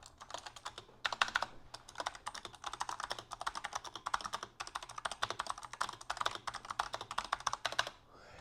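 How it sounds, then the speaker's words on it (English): Fast, steady typing on a Razer Huntsman optical mechanical keyboard with springy switches, a close, dense run of clacking keystrokes that stops abruptly near the end. "this is my first ever mechanical keyboard. This is a Razer Huntsman."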